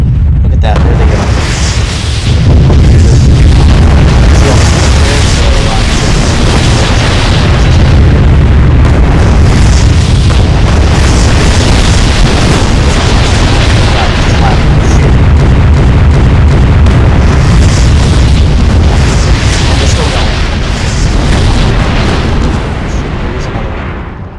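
Rocket explosions in a Garry's Mod nuclear warfare mod, a video game, form a loud, continuous roar of overlapping booms and rumbling blasts that barely lets up.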